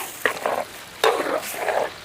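A spoon scrapes and stirs chicken curry with seasonal pitiki pappu beans in a pan after water has been added: three short, close, wet scraping strokes with quiet gaps between them.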